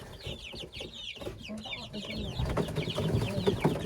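Chickens clucking just after being moved into a small coop, a busy cluster of close, overlapping clucks and squawks with some low rustling and faint background voice.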